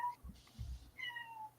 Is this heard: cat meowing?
yes